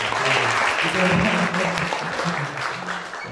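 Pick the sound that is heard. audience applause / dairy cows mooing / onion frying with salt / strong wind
audience applause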